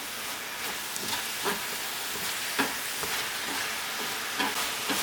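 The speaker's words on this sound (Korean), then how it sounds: "마늘 쪽파를 뿌리고 고추도 샤샤샤샥 센 불에서 빠르게 볶아내세요" Garlic, green onion and chili stir-fried fast over high heat, a steady loud sizzle with scraping stirs recurring about every second, close up and with no talking.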